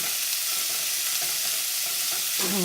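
Steady, loud sizzling of food frying in a pan, a continuous crackling hiss throughout with no voices.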